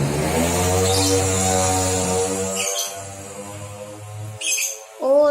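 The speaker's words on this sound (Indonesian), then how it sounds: "Burung diam dong, bisa diam gak sih?" Birds chirp and squawk nearby with repeated harsh, harmonic calls that are loud and fairly continuous, rising and breaking off in several bursts over a few seconds.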